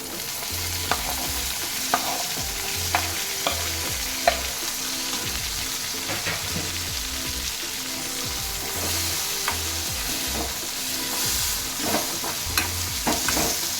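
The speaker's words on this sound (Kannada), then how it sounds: "ಈರುಳ್ಳಿ ಬೆಂದಿದೆ ಟೊಮೊಟೊ ಹಾಕ್ತಾ ಇದ್ದೀನಿ" Chopped tomato goes into onions frying in a pan for an avarekalu huli curry, giving a steady sizzle with repeated scraping, clattering stirs throughout and no talking.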